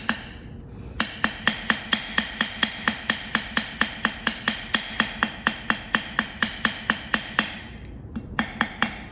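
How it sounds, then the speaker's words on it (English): A hammer taps a 16-gauge metal ring band on its side in a studio, about thirty quick, even, ringing strikes with a short pause near the end, then a few more close, bright taps. "your hammer can fix it, hitting it on the side"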